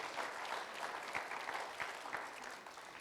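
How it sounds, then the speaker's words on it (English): A round of applause from a gathered crowd honoring city senior staff, a fairly quiet, continuous patter of clapping with a few sharper individual claps standing out. "Let's give them a big round of applause"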